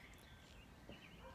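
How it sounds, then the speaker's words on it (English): Wild turkey gobbling on a ridge, a faint, distant rapid gobble rising over a soft hiss of outdoor background noise, heard alone without any talk. "constantly gobbling"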